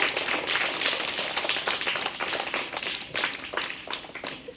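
Loud, dense clapping from an audience welcomes prize winners at a class 1 to 5 school results and gift ceremony, staying thick and steady throughout with no pause.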